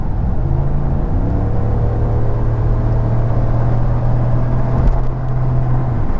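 A Ford F150 pickup truck climbing uphill while running on an empty fuel tank, with a steady engine drone and low rumble that stays constant throughout, apart from a brief bump near the end.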